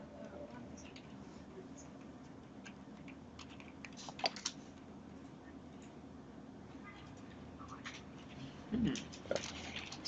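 Steady clicking of a computer keyboard being typed on through the whole stretch, a moderately quiet continuous patter with a few louder knocks near the end and no talk over it.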